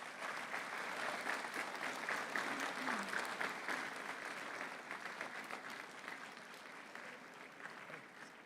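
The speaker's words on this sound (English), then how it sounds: "give the audience behind you a round of applause" A graduation commencement audience in a large hall applauds steadily for several seconds, a broad wash of many hands heard from a distance that slowly tapers off, with faint talk underneath.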